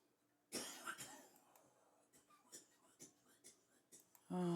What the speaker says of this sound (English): it's not me coughing, by the way. It's somebody else.